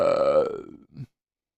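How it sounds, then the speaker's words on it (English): A single loud, close burp after drinking Mountain Dew, a drawn-out throaty belch that trails off, then a short second gurgle right after it. "Dew burps are coming out."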